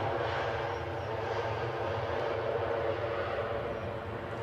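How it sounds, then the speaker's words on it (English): A KLM Embraer 190 airliner at Edinburgh airport gives off a continuous engine roar, steady and fairly close, with no speech over it. "KLM. Embraer 190."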